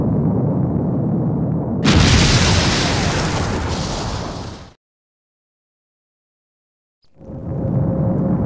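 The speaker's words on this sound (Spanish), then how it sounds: "Si no tenemos cuidado, nos quedaremos atrapados en la explosión." A loud explosion in the Megaman Legends video game: a rumbling roar swells into a sharp, broad blast lasting a few seconds, then cuts to brief silence before game sound resumes.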